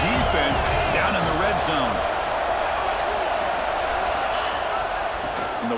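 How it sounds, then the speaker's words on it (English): A stadium crowd in EA Sports College Football 26, during a Florida State vs Miami game, roars steadily throughout, with a commentator's voice over the noise in the first seconds. "the crowd coming to life here trying to help"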